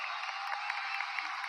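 Faint, steady applause from an audience at a school results announcement, a soft continuous patter of many hands heard from some distance.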